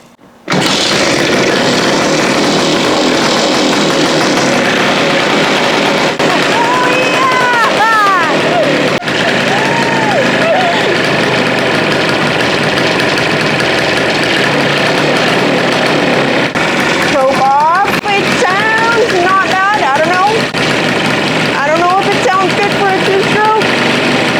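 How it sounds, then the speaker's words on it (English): A 50-year-old two-stroke motorcycle engine runs steadily and loudly near the microphone throughout, with people talking over it at a few points. "I'm so happy this thing runs. It sounds like a 2-stroke."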